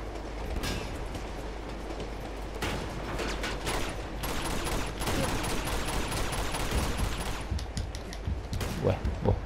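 Enemy gunfire in Uncharted 2: Among Thieves, heard as bursts of rapid shots and clattering impacts throughout, steady and fairly loud with no talk over it.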